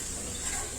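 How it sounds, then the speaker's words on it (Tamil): Water splashes onto cut cucumbers in a cooking pot for a Kanyakumari-style curry, a short, soft, steady hiss close by that lasts under a second. "போட்டுட்டு இந்த மாதிரி கொஞ்சோண்டு தண்ணி ஊற்றிக்கோங்க."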